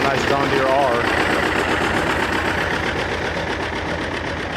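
A John Deere R tractor runs at an antique agricultural show in Perry, Georgia, its engine a steady, fairly loud low throb with a regular firing pulse throughout, while a person talks over it.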